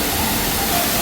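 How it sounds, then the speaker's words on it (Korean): Rushing water from a waterfall at a scenic spot in Taiwan, a dense, steady roar that stays constant throughout the brief moment. "폭포도 있어"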